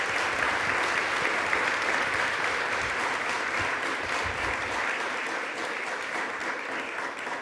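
Audience applause welcoming President Andrzej Duda of Poland at a speaker-series event, steady, dense clapping filling the hall for several seconds and easing slightly toward the end, with no voices over it.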